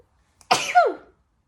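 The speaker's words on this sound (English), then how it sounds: "Mommy has to sneeze." A single sneeze from a mother at home, one sharp close burst of about half a second that trails off quickly in an otherwise quiet room.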